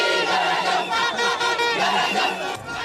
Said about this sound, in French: c'est une foule en liesse qui accueille le président Macky Sall